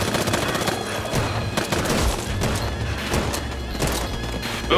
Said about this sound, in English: I shot him so he stopped.